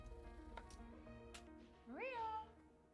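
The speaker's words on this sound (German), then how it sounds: "Ach, Maria heißt die Katze" A cat meows once in the video game Immortality, a clear rising and falling call near the end, heard over a quiet background with faint talk and low hum.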